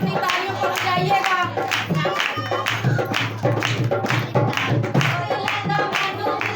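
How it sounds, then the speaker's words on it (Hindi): A congregation at a prayer meeting claps along in rhythm, sharp repeated hand claps layered over singing voices and a steady low drone, fairly close and loud. "सब अपनी तालियों को बजाइएगा"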